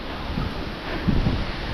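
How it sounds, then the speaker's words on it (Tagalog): Strong wind buffets an outdoor microphone in a rural Filipino setting, a low rumbling roar with a few louder gusts, steady and close, with no speech. "Lakas ng hangin."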